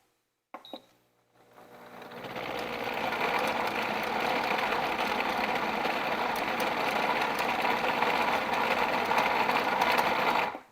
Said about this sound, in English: let's go ahead and puree that a little bit as well